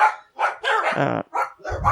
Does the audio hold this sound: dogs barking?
yes